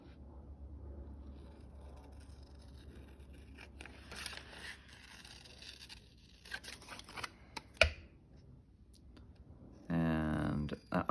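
Scissors snip and click through scrapbook paper in a few short bursts, with scraping and rustling nearby, and a voice speaking near the end.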